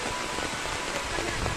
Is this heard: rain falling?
yes